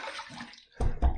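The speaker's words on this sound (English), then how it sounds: "Let me throw a little more water on my face." Water is splashed onto a face before shaving: a soft running trickle, a brief pause, then two close, loud splashes in quick succession.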